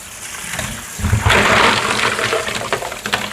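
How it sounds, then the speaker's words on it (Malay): Fresh mussels in their shells are rinsed under a running tap, a steady splashing gush of water that swells after a quieter start, with rattling and sloshing as the shellfish are scrubbed clean. "Kita basuh di bersih."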